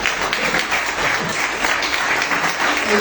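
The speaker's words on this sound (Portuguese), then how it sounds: "Aplauda Jesus nessa noite." Worshippers at an evening teaching service clap together for Jesus in a lively, sustained burst of many hands, loud and close, with a faint murmur of voices underneath.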